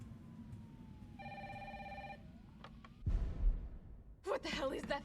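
A telephone rings in Resident Evil 3 with one steady electronic trill lasting about a second. Game ambience hums underneath, followed by a low rumbling crash and a burst of noisy sound.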